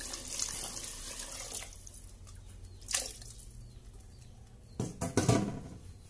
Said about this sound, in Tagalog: lagyan ng maraming tubig